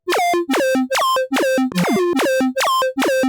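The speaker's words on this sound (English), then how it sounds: "The lead is usually a simple wavetable with a lot of harmonics." A bright, harmonically rich wavetable synth lead, low-pass filtered with LFO-automated cutoff, plays a quick run of short plucked notes in a steady rhythm, each note sweeping downward in brightness.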